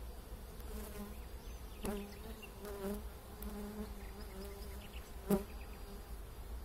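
Honey bees buzzing around open hives during a colony inspection in warm spring weather, a steady low drone with individual bees passing close by, plus a couple of sharp knocks from handling the hive.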